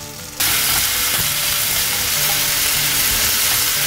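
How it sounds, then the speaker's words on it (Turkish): Small walnut pieces and blueberries caramelize with sugar in a pan, a loud, bright sizzle bursting in abruptly after a brief quiet moment and continuing steadily with occasional stirring knocks. "Ufak ufak cevizlerle yaban mersinlerini şekerle şöyle karamelize etmek istiyorum."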